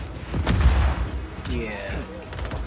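A grenade goes off in the game Just Cause 4 with a deep, booming blast, followed by a second rumbling burst and whistling debris. The explosions play close and fairly loud, with a voice briefly heard over the game sound.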